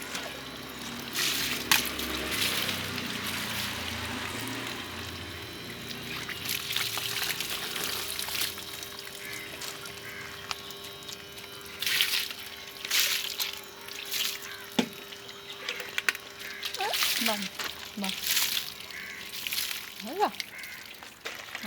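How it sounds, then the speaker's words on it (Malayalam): Water poured over Lilly during a cooling bath on a hot day, a continuous close splashing trickle with intermittent drips, and a voice speaking briefly near the end. "ഇന്നത്തെ വീഡിയോ എൻ്റെ ലില്ലി കുട്ടിയെ കുളിപ്പിക്കുന്ന വീഡിയോ ആണ്"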